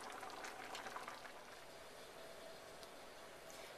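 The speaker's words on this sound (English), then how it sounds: "My cashew chicken is boiling, so now I'm going to turn it down and just let it continue to simmer" Cashew chicken boiling in a pot on a stovetop, a soft continuous bubbling hiss, close and fairly quiet, steady throughout with no voices.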